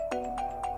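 A phone ringtone plays a bright, repeating electronic melody, three quick tonal pulses over a sustained note, clear and close with no talking.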